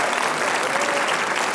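An audience claps for readers at a writers expo, a loud, dense round of applause from a room full of people, sustained and even throughout the brief moment.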